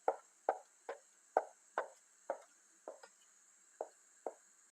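Fresh tarhana dropped into water in a series of about nine soft wet plops spaced roughly half a second apart, close and clear over a faint steady background hiss.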